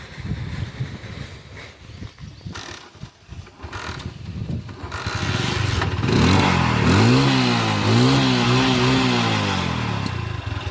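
A smoking motorcycle with a fault is started after some mechanical clatter. The engine then catches and runs loud and close, revving up and down in several rising and falling surges.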